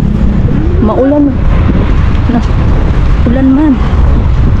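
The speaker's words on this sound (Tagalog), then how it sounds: "Maulan siya mga guys." Heavy rain pours outside as a loud, steady broadband wash, with voices speaking over it at moments.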